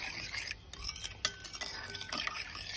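A spoon stirs a bowl of baker's yeast mixture to dissolve it for ka3k dough, a soft steady swishing with light scraping taps against the bowl, close and quiet, no talking.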